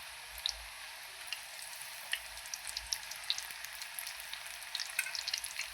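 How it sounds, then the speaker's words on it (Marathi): Chakli frying in hot oil in a kadhai, a quiet, constant sizzle with small crackles and pops scattered throughout, close up and alone. "मी आता ह्या चकल्या तळून घेणार आहे"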